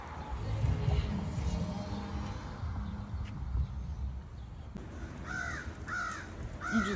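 Black birds caw in a run of several harsh calls near the end, heard over outdoor rustling and low background noise, moderately close but not loud.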